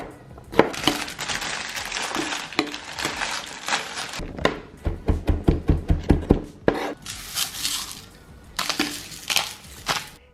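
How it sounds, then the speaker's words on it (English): A knife chops potatoes rapidly on a board in quick rhythmic bursts, mixed with scraping and rustling of peeling, close and fairly loud. "you just wanna chop up and peel your potatoes to make the chips"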